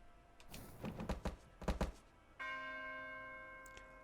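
A single church bell toll in the video game Those Who Remain, ringing out with a long sustained hum that fades slowly, after a few dull thumps and knocks; no talk.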